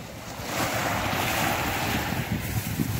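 Surf and wind at a seashore during a seaside picnic, heard as a steady, loud wash of breaking waves with buffeting wind noise on the microphone throughout and no voices.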